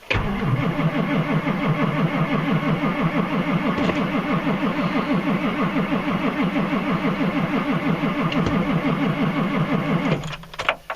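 A Ford 450 dump truck diesel engine is cranked from cold, its starter churning in a loud, rapid, steady rhythm for about ten seconds before cutting off abruptly.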